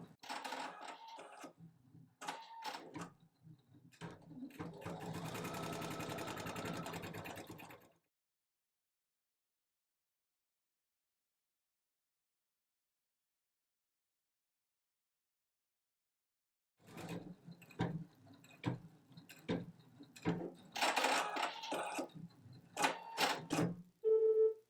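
A home embroidery machine stitches a first embroidery project in bursts of steady mechanical whirring and tapping, stops for a long silence, then runs again with sharper rattling.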